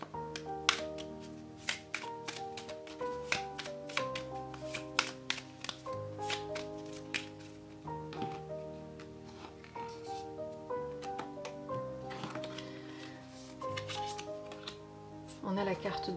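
Lenormand cards are shuffled and drawn by hand in quick crisp riffling bursts and sharp taps, close and fairly quiet, with brief pauses between the flurries and a voice speaking over parts of it.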